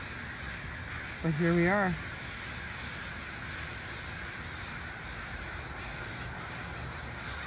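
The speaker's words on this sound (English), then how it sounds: "And I'd never seen a murmuration of crows before." A crow in a murmuration of crows at Still Creek, Burnaby, BC gives one short burst of cawing near the start over steady outdoor wind and hiss, while someone speaks quietly.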